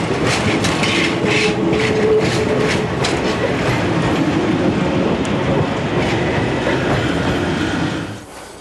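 A train pulls away along the main line toward Saint-André, its rail wagons clattering loudly and steadily with rhythmic wheel clicks before the sound drops off near the end.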